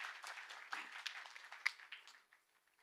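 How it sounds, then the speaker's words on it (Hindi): An audience at a corporate gathering of Vedvedya Life Sciences applauds the company's MD and CEO. The clapping is faint and distant, a steady patter with a few sharper claps that thins out and fades away near the end. "मैं चाहूंगा सर के लिए एक बार जोरदार ताली होनी चाहिए"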